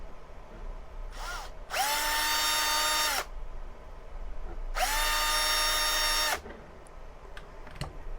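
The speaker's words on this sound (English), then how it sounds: "let's have a go at drilling the holes" A power drill whirs in two sustained bursts of about a second and a half each, loud and close, drilling holes to repair a broken cabin filter clip on a BMW E84 X1, with quieter handling noises between.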